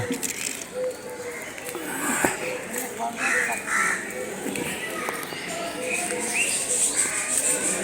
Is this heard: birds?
yes